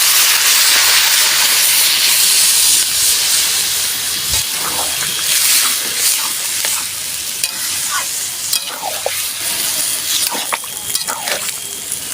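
A splash of water added to a hot pan of mixed vegetables for a Bengali panchmishali chorchori, raising a loud, continuous sizzle and hissing steam with scattered stirring clinks.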